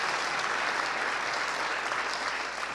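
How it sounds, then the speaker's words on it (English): An audience at the Kennedy Institute gives Liz Cheney a round of applause, a thick, sustained wash of clapping that stays level throughout. "Liz Cheney getting a round of applause at the Kennedy Institute."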